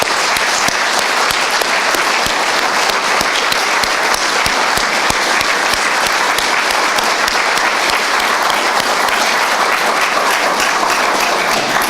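A conference audience at ESREL 2016 gives the organisers long, strong applause, a dense, even roar of clapping sustained for about twelve seconds with no talk over it.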